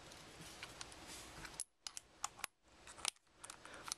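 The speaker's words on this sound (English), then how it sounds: "if you hear that clanking sound, that's the play in the chuck" A 1/4-inch hex bit holder clanks and rattles loosely in the chuck of a cordless drill driver, faint irregular metallic clicks and taps at close range, with short silent gaps between bursts.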